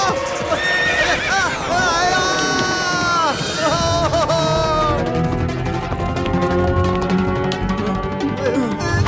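A horse whinnies loudly in a long, wavering neigh that falls and rises, close by and continuous over a dense, busy background.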